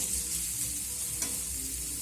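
Chopped onion frying with tender gourd leaves in a pan, a steady soft sizzle with light stirring and one brief scrape near the middle, close and even, no talking.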